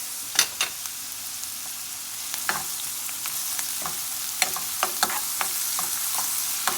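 Onions, garlic and pepper frying in a pan for a Guyanese breakfast, a steady soft sizzle punctuated by scattered clicks and scrapes of a utensil stirring, close up.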